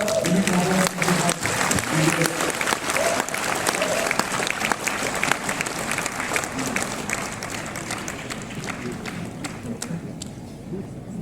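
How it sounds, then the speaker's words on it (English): Audience applause for presenter Derek Wong after his talk, a loud, sustained round of clapping with scattered sharp claps that gradually thins and fades over about eleven seconds. "A big round of applause, please, for Mr. Derek Wong."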